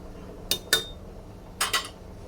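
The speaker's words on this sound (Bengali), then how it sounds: "এবার একটা ঢাকনা দিয়ে ঢেকে দেব" A lid is set onto a pot of fried rice after the water goes in, heard as two quick metallic clinks, a short pause, then two more light clanks, close and alone.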